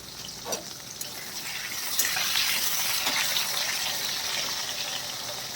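Rice for payesh is rinsed under running water, a steady close gush and splash with a few clinks at the start, no voices.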